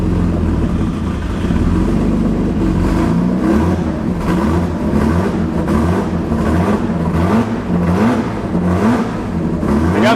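A Peugeot 406 V6 with a faulty TDC sensor and a missing engine mount is revved repeatedly up close, its loud engine note climbing and falling in a string of blips over a rough idle.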